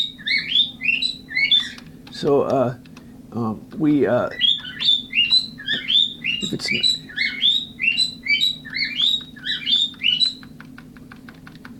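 An indoor pet bird chirps in rapid repeated tweeting bursts across most of the stretch, loud and near, while someone talks briefly in the middle.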